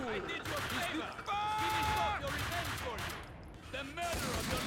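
Video game gunfire from Max Payne 2 crackles in rapid bursts and volleys throughout, layered under a voice talking.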